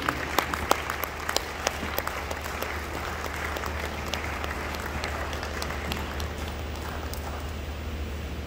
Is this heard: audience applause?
yes